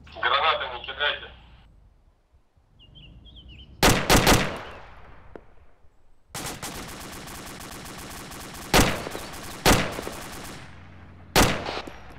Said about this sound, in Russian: Да я вижу, стреляет уже сзади.